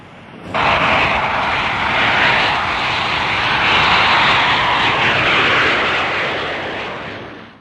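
A Hawker Hunter two-seat subsonic jet fighter roars in flight, a loud steady broadband engine rush that starts abruptly and holds near-constant for several seconds before easing slightly.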